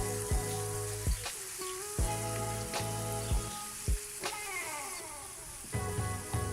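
Cauliflower and egg curry stirred in a frying pan, with a steady sizzle and loud, repeated scrapes and knocks of a spoon against the pan at an irregular rhythm.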